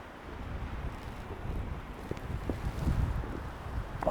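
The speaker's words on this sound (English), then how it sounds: "another gust. I can hear it coming through the trees." Wind gusts through trees during a freezing storm at a tent campsite, a broad rushing roar that swells toward the end, with scattered rustles and microphone buffeting.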